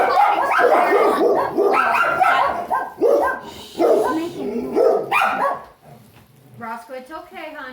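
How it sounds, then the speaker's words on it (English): A dog barks loudly and close by in repeated bursts, then trails off into a few higher whimpering yips. "Yeah, all the barking in the video."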